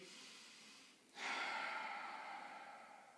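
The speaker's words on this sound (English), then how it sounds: "All the while you're just trying to breathe deeply" A single deep breath taken while holding a stretch in a flexibility routine: a brief quiet pause, then a long, soft airy exhale that slowly fades over a few seconds, close and alone.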